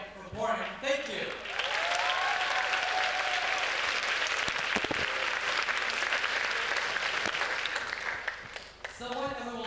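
Steady, full applause from a middle school audience for a student rock band, loud and dense throughout with a few scattered cheers, briefly overlapping a voice at the start and end.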